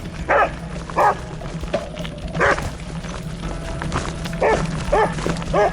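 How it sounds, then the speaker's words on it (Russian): Stray dogs bark in a rural village, several sharp barks in irregular bursts at mid distance, some overlapping, over a low outdoor hum. "Что за дикие собаки, а?"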